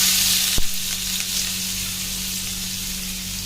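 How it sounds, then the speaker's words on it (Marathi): Cumin seeds and chopped onion sizzling in hot oil in a pan, a bright steady hiss with a brief stirring clatter near the start, close and continuous, no talking. "जिरे टाकून हा जो कांदा मी कापून ठेवलेला तो टाकून थोडा परतून घेणार."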